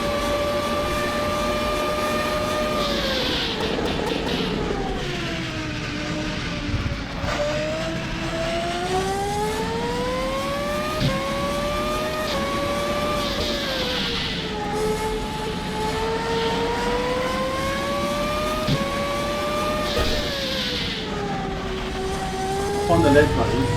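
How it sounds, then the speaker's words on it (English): A 1993–1994 era F1 race car engine in the sim racing game rFactor 2 screams continuously, pitch climbing and dropping in long sweeps through gear changes and corners, loud and dominant, with a voice talking beneath it. "I'm hoping that you can hear me over the engine noise"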